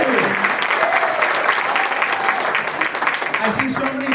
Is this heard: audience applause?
yes